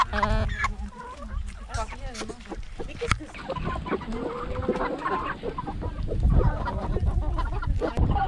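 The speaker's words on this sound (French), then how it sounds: "Regarde les oies, elles arrivent," Geese honking as they arrive among clucking chickens, a busy, continuous farmyard mix of overlapping calls close by with scattered voices in the background.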